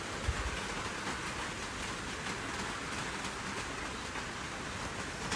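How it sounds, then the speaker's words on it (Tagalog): Rain falls steadily outdoors as a soft, even hiss of drops on surfaces, faint and continuous with no voices. "It's raining."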